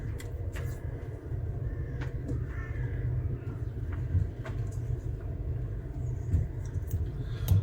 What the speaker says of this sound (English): The crows are all going mental because there's a red kite flying around trying to eat the babies.